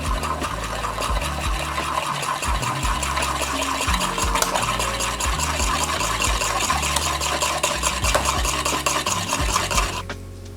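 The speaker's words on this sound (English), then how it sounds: "I'm gonna whisk the egg yolk into my bechamel." A whisk works egg yolk into a béchamel sauce for pastitsio, a steady continuous scraping and stirring loud and close for the whole stretch, with no talking.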